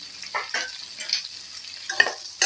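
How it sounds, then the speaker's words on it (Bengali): Ivy gourd cut lengthwise into four long pieces frying in a pan for a sesame paste curry, with soft sizzling and a few stirring scrapes, close and fairly quiet with no talk. "কুঁদরিগুলো দিয়েও আমি একটু সময় এগুলোকে ভেজে নেব"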